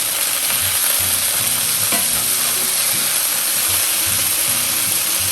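Homemade fresh-ground chicken and pork breakfast patties fry in a pan with a loud, steady sizzle, broken by brief scraping and thumps as they are flipped.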